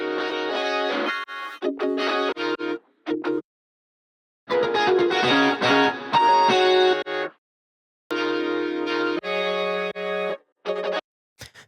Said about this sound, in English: it's this like vocoder guitar